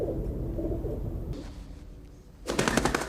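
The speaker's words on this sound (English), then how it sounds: "From Van Damme's special moment with a pigeon." In a Jean-Claude Van Damme film scene, a pigeon's soft cooing rumbles low and close, fading into quiet before a burst of rapid, loud clattering bangs at the end.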